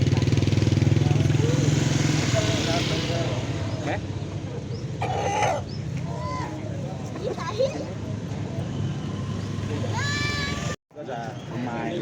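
Busy Friday chicken market in Pecangaan, Jepara, Central Java, with roosters crowing and hens clucking amid crowd chatter and passing motorcycles, a dense steady din with occasional sharp crows.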